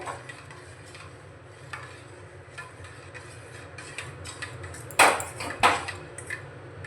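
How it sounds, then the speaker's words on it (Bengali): A spoon stirs vitamin E capsules into a homemade papaya soap mixture, giving soft ticking taps against the container and two louder clinks near the end, close and fairly quiet. "ক্যাপসুল ভালো করে মিশিয়ে নিচ্ছি"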